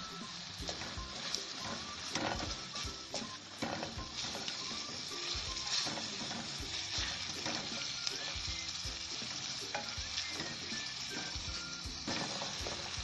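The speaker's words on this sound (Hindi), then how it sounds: "और इसे भून लेंगे" Beef mince fries in oil in a pan with a steady, dense sizzle and crackle. Occasional scraping and stirring clatter comes through over a continuous hiss, close and fairly quiet.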